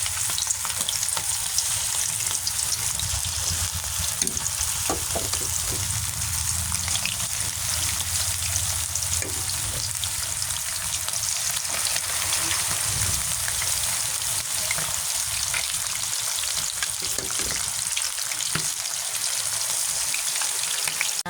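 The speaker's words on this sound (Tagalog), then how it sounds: "Mahinang apoy lang ako mag-prito" Chicken pieces fry in hot oil over low heat, a constant close sizzle with occasional pops and spatters lasting throughout, with no talking.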